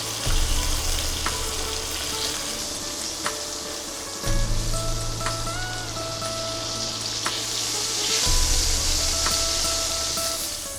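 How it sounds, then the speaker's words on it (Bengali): Pieces of pointed gourd and potato fry in hot oil over high heat, giving a loud, continuous sizzle with occasional stirring scrapes and bursts of crackle. "তো পটল, আলু এগুলো আমরা হাই হিটে ভেজে নেব।"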